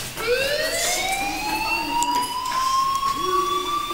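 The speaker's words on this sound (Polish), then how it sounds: "Hey, do you hear that fire alarm? That means you should be outside." A fire alarm in the video game Life is Strange wails with a rising, siren-like sweep over background noise, fairly loud and continuous, with no voices.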